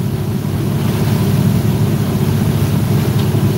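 Outboard motorboat running on just one engine after a lower unit failed in hurricane conditions, a loud steady low drone mixed with wind and water noise, constant throughout and without voices.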